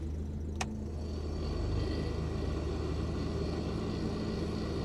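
A 1950s Standard Ten, a British classic car, with its engine idling in neutral, a steady low rumble that swells slightly as it is revved, heard close with one brief click near the start.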